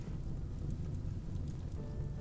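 Foggy rain in the video game Rimworld, heard as a faint, continuous hiss of falling rain with a soft low rumble, steady throughout and without speech.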